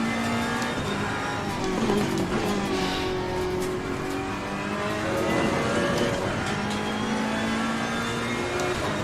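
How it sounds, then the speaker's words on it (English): Racing car in a GT3 sim racing game at Monza, its engine droning loud and steady throughout with tyres sliding and squealing briefly, pitch rising and falling as it corners. "Oh, tyres sliding a bit there."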